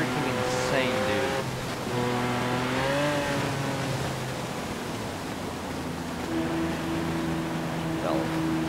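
A V12 Lamborghini engine in Forza Horizon 4 drones steadily throughout, its revs rising and falling in smooth sweeps, loud and close with a constant roar underneath.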